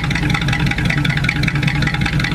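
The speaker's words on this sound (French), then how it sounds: "Alors ici on a une Dodge Charger qui fait un bruit de ouf" A Dodge Charger's engine runs loudly at a car meet, a steady, dense, continuous rumble with a mid-range whir that holds constant throughout, close by and with no voices over it.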